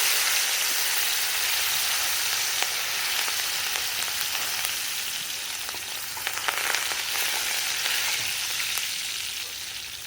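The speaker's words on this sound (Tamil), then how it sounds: "கருவேப்பிலையும் நல்லா ஃப்ரை ஆனதுக்கப்புறம்" Curry leaves and dried chillies crackle and sizzle in hot oil, a continuous loud frying hiss with scattered pops and occasional stirring sounds.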